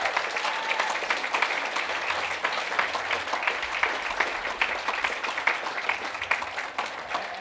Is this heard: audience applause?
yes